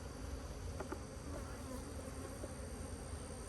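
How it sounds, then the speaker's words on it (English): Caucasian honeybees buzz in a cow pasture apiary, a continuous dense hum of many wings, steady and close throughout with no pauses. "They like crimson clover, the Caucasian bees."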